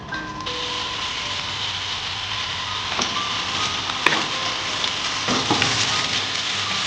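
Onions sizzle and fry steadily in hot oil in a pan for an Indian beef mince and split pea curry, with a constant bright crackle and a few soft scrapes and clicks near the end.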